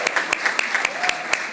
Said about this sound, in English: But I would also like a round of applause for Dom